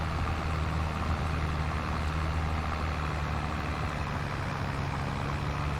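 A small tractor in the Farming Simulator 22 video game, hauling beets during farm work, runs with a steady, continuous engine drone at even loudness throughout, with no talking.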